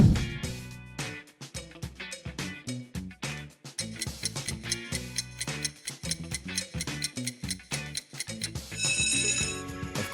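A Nokia phone ringtone plays alone as a rapid, bright sequence of short melodic notes with a rhythmic, tapping pulse, fairly close and clear, and no voices.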